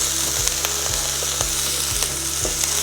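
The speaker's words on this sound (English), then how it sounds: "And stir fry." Green onions sizzling in oil in a hot pan, a loud, steady fry with rhythmic spatula strokes knocking about twice a second, close up and without any voices.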